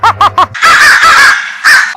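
Crow cawing as a sound effect, with three short harsh caws followed by a longer drawn-out caw and a final call, loud and close with no talking.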